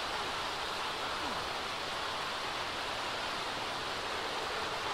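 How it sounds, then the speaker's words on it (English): Steady pouring rain in a Disney Princess video game, a continuous broadband hiss that holds evenly throughout with no pauses. "Yeah, I know that it's pouring with rain."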